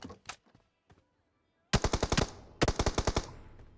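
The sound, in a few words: gunfire in the video game PUBG Mobile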